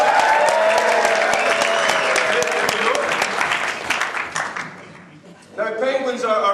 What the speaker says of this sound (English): Give a cheer for the penguin.